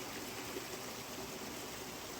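Steady running water of a stream flowing over rocks, a continuous rushing trickle with no pauses, fairly close and moderately loud, with no voices.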